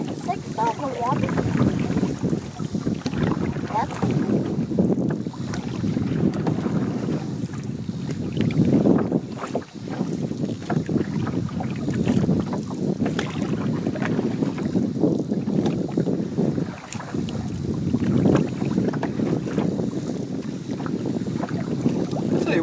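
A new Old Town Saranac 146 canoe is paddled with a young child aboard, and steady water swishes and wash rise and fall through a constant rush of wind on the microphone, close and loud.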